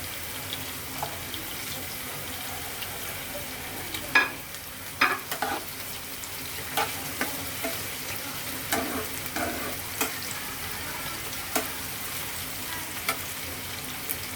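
Chopped ginger, garlic and bay leaf fry lightly in oil for bhuna khichuri, giving a steady low hiss with scattered spoon scrapes and clinks, moderately quiet and close.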